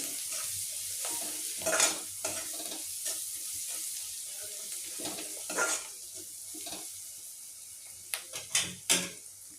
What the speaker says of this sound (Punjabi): ਚੰਗੀ ਤਰ੍ਹਾਂ ਹਿਲਾ ਦਾਂਗੇ